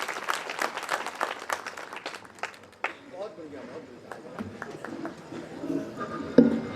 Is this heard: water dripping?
no